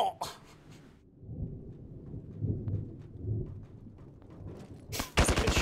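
Gunfire in the military shooter ArmA 3, with broadband shots at the start and a loud burst near the end, separated by rumbling low battle noise and voices talking through the middle.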